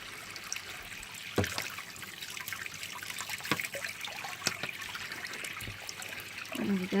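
Water trickles and dribbles while a makeup brush is rinsed out, a soft continuous close splashing with a few brief clicks and knocks.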